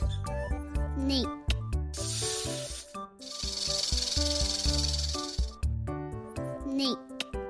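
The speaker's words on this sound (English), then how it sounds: "Snake." A snake hisses in two loud, steady breathy bursts set between short musical passages, with no talk over them.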